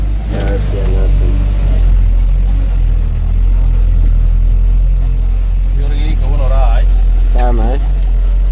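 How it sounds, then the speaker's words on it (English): A big truck drives along a rough, badly damaged village road, its engine giving a steady, loud low rumble throughout, with people talking over it. "the road is so bad, guys. But we're gonna make it."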